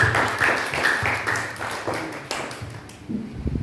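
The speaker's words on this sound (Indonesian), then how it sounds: "Tepuk tangan untuk kemuliaan Tuhan Yesus." Church congregation clapping together in steady repeated beats, moderately loud and somewhat uneven, fading near the end as a voice begins to speak.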